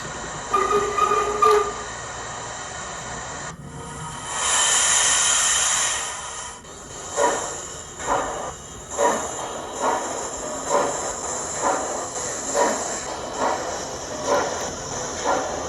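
A Hornby Black 5 model steam locomotive with DCC sound and a steam generator runs nearby, with a hissing steam burst followed by rhythmic chuffing puffs repeating steadily.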